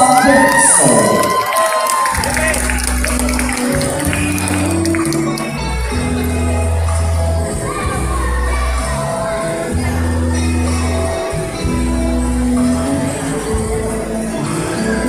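A pageant audience at the Unduk Ngadau Kudat 2025 finalist showcase cheers and shouts for a contestant, with loud crowd whoops at first that give way to sustained cheering under rhythmic music.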